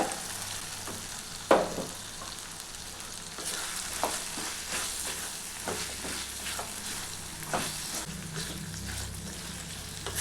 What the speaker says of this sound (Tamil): நல்லா இந்த மசாலா கூட நல்லா ஒன்று சேர கிளற விடுங்க.